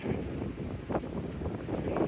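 Wind gusting steadily across the sunrise-side beach of Gili Air, Indonesia, a continuous low rushing roar that swells slightly in places, with no voices.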